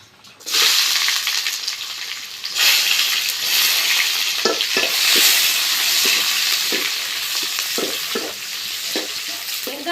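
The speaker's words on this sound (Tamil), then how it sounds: "பட்டை வகையெல்லாம் நல்லா பொரிஞ்சிட்டு அது கூட வந்து வெங்காயம் சேர்த்துக்கிறேன்" Sliced onion hitting hot oil with whole spices like cinnamon and cardamom, bursting into a loud, close sizzle, followed by repeated scraping stirs under a steady frying hiss.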